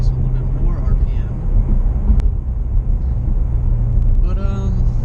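A Chevrolet Corvette C7 Z51 engine hums and rises in revs while driving, a steady low rumble inside the cabin running beneath someone talking.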